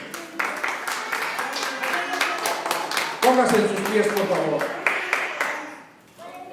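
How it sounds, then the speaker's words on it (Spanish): A church congregation claps in response to a call to applaud during a service, a dense wash of clapping with voices and cheering mixed in, fading near the end as someone speaks. "Denle un aplauso bien fuerte al Señor."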